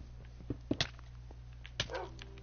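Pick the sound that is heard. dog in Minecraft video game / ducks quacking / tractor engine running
dog in Minecraft video game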